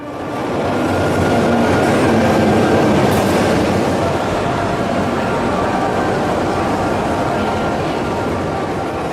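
A metro train ride in North Korea, heard from inside the car: a loud, steady rumble of wheels and rail noise that holds evenly throughout with no break.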